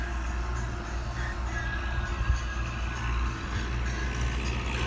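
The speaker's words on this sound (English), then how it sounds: "Oh, this car runs." An old convertible sits in a Bradenton, Florida junkyard with its engine running, a steady low idle rumble holding throughout with slight fluctuations, close and continuous, with no talk over it.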